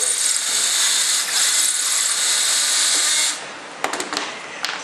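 A power drill whines loudly and steadily for a few seconds, drilling through the sides of an F-14 Tomcat model part, then cuts off, followed by a few sharp taps and clicks.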